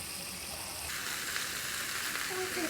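Bacon-wrapped enoki mushrooms fry in butter on a hot pan, giving a continuous, fairly close sizzling hiss that grows slightly fuller midway, with faint clinks near the end.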